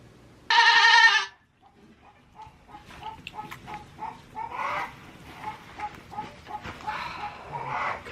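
A newborn male goat kid gives one loud, close bleat lasting about a second. Quieter rustling and soft animal noises follow.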